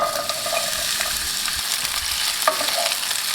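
Onions frying in hot oil in a pan, a steady dense sizzle throughout with faint stirring scrapes, close and fairly loud with no talking.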